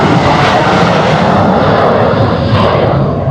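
An airplane flies past near the airport on Langkawi in Malaysia, a loud, steady engine roar with a broad rumbling hum that holds throughout, close and dominant with no other sounds.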